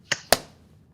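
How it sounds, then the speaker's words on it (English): Two sharp hand claps in quick succession, loud and close, with a short fading tail and no talking. "It's gonna be 1, 2, 3, and then clap."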